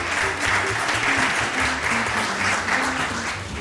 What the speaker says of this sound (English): Let's give all our B-rated schools a round of applause